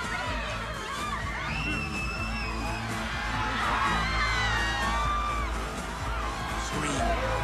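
A large crowd screams, cheers and whoops continuously at a dense, roaring level, with children's shouts and scattered yells rising above the steady wall of voices throughout.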